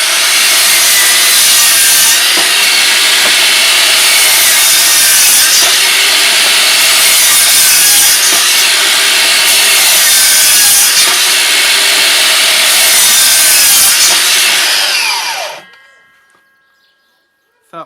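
A cordless power saw running on 2Ah batteries cuts through wood in a loud, steady, continuous rasp lasting about fifteen seconds, then stops abruptly, leaving near silence with a brief knock at the end.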